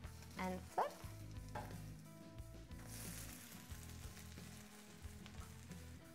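Heart-shaped French toast sizzles steadily in a frying pan just after being flipped, with a couple of utensil clatters at the start and a continuous close frying hiss with no talking.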